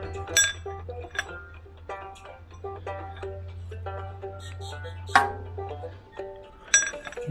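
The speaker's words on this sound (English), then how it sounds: "That's actually a 9/16 wrench." Metal wrench, a 9/16, clinks and rattles as it is handled, giving several bright irregular clinks over a low steady hum, with a sharper strike near the end.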